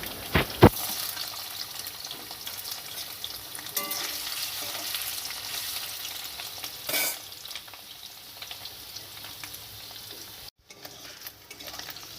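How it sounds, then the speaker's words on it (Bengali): Steady sizzling of paneer pieces frying in hot oil, continuous and close, with occasional clinks and stirring noises and no talking. "এবার আমি আস্তে আস্তে সবগুলো পনির ভেজে নেব"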